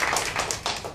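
An audience at a 2003 university lecture claps, a dense patter of hands lasting about a second, fairly close and without voices.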